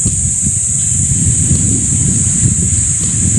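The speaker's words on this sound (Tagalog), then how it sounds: "Ay, ang sarap ng hangin." Wind buffets and rumbles steadily against the microphone, with a constant high hiss on top and no talking.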